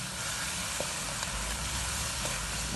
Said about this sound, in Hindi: इसे हम अच्छी तरह से भून लेंगे, इसकी भुनाई कर लेंगे।